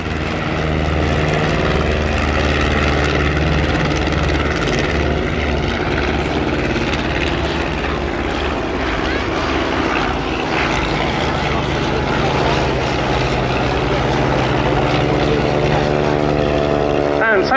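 Vintage BE-2C and Avro 504K replica biplanes fly at an air show. A steady, droning propeller engine note holds loud throughout, with layered engine harmonics and no talk.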